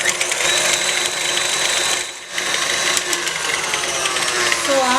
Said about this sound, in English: into the mixing bowl add the sugar and the butter and start whisking it about 1 minute